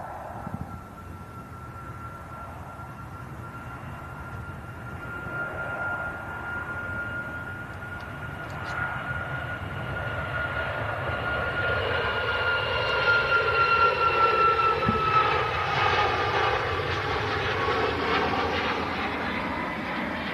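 A Boeing 737 Max begins its takeoff roll on runway 23 right at Manchester Airport, a distant engine roar that builds steadily over twenty seconds with a high whine threaded through it.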